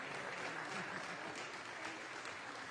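Church congregation applauding during a service, a moderate, even patter of many hands clapping that fills the short stretch without a break, fairly quiet overall.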